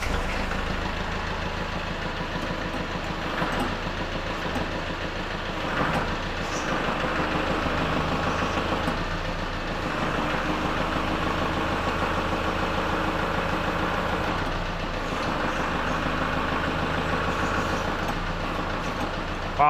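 A snowblower engine idles and runs steadily with a low mechanical drone and rattle, holding a fairly even level throughout with slight surges.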